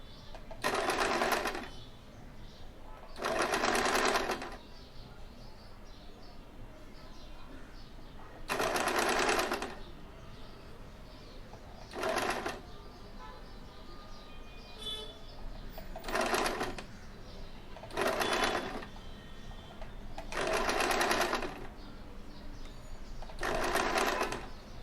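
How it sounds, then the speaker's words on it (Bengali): Sewing machine stitching folded fabric for a small Laddu Gopal nappy, running in about eight short bursts separated by quiet pauses, close and clear. "ফোল্ড করে খুব হালকা হাতে কিন্তু এটাকে সেলাই করে নেব।"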